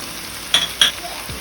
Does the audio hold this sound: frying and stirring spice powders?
yes